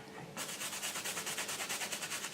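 A toothbrush dipped in Dawn dish soap scrubbing a stained patch of a VermiBag fabric worm bin, a steady fast back-and-forth bristly rasp close up, starting abruptly and repeating evenly with no voices.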